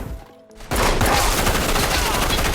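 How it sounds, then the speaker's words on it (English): Automatic gunfire in a film shootout bursts in after a short quiet moment, a loud rapid fusillade of shots that keeps going to the end with no voices. "He gets shredded by automatic fire and dies on the spot."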